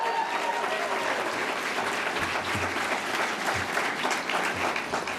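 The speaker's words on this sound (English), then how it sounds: "Raul, give him another round of applause." Applause from the audience at a political forum for Democratic National Committee candidates, a dense and steady wash of clapping that carries on throughout.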